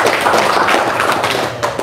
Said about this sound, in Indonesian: tepuk tangan lu dong buat Pak Wayan